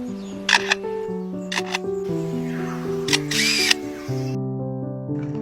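A superb lyrebird imitates a camera shutter, giving crisp mechanical clicks and whirring bursts in short clusters, heard close over a steady background of music.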